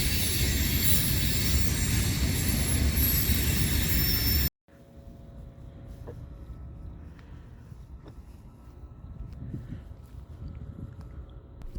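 A passing CSX freight train of 86/89-foot cars rumbles steadily past with low wheel noise and occasional faint squeals after a loud, abrupt opening section.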